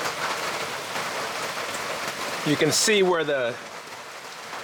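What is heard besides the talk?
rain falling on a firewood shed roof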